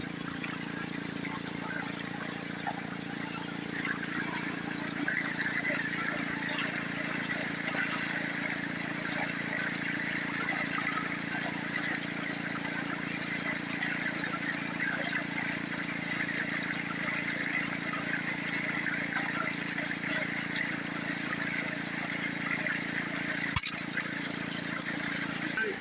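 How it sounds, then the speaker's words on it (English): Water rushing steadily through a gold prospecting sluice box, a constant close trickling wash with faint gravel and rocks shifting underneath and one brief knock near the end. "You can hear the rock starting to move now."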